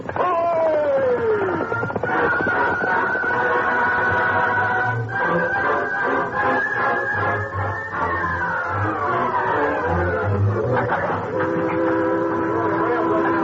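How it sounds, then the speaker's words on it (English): A work train pulls in along a railroad in a radio drama, a steady rumbling run with drawn-out horn or whistle tones sounding over it throughout, loud and close, with voices heard over the noise. "Here comes the work train with more Talisman."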